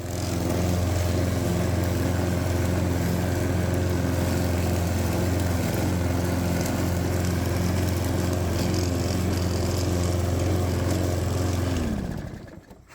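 A lawn mower runs at a steady, loud, droning pitch while mowing the lawn, holding constant close to the microphone before cutting off abruptly near the end.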